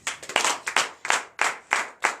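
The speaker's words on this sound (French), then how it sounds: "Donne l'acclamation de Seigneur" A church congregation at a night deliverance and prophecy service in Comè, Benin claps in acclamation of the Lord, a few rhythmic bursts of hand claps, close and fairly loud, with no voices over them.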